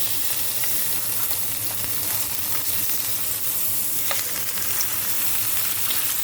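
Salmon fillet frying skin-side down in a pan, a steady close sizzle with scattered pops and light scraping ticks as it is lifted and flipped, no voices.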